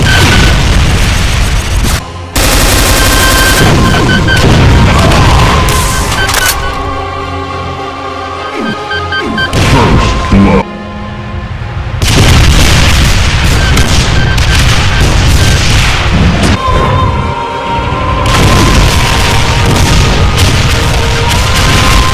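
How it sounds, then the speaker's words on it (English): Heavy, continuous barrage of explosive rocket blasts from Cyberdemons in a modded Doom game, loud booming impacts overlapping in dense volleys with brief lulls between bursts. "volleys of explosive rockets emitting an explosive wave,"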